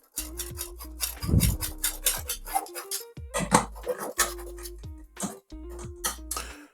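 A whisk stirs mango, orange and mint juice, giving a run of quick scraping, clinking strokes against the container. It is moderately loud and close, with brief pauses between bursts.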